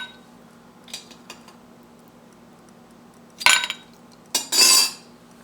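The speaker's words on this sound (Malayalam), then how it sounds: "ഒരു സെർവിങ് ഗ്ലാസ് എടുത്തിട്ട് അതിലേക്ക് ഐസ് ക്യൂബ്സ് ഇട്ട് കൊടുക്കുക." Ice cubes drop into a serving glass, a few light clinks followed by two louder bursts of clattering and rattling against the glass, close and without talk.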